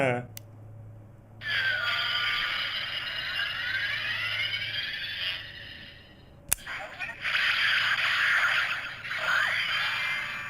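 An Ultraman Omega toy transformation device's electronic sound effect plays at length while its button is held, sweeping tones and whirs, interrupted by a sharp click before a second, brighter burst.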